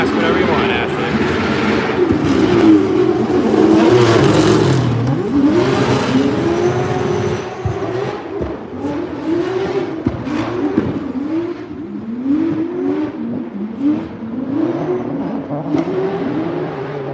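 Drift cars at a practice session at a German drifting event rev hard and scream past one after another, their engines rising and falling in repeated sweeps, with people talking nearby over the noise.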